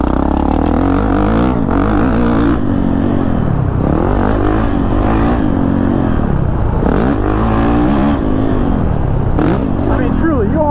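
A Kawasaki KX450 dirt bike being ridden around a track, its engine loud and close as it repeatedly rises and falls in pitch through throttle changes, with rough mechanical clatter throughout.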